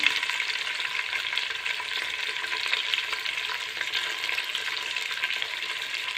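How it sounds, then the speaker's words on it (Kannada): Food frying in a pan for methi bath, a loud continuous close sizzle with a fine crackle, steady throughout, no voices. "ಸ್ವಲ್ಪ ಚೆನ್ನಾಗಿ ಫ್ರೈ ಆಗಲಿ."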